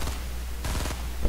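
Rapid bursts of gunfire in Fortnite aimed at the Kevin cube, loud and close, with a couple of quick volleys in just over a second.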